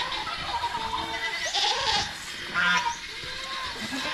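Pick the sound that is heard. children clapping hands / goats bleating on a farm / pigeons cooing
goats bleating on a farm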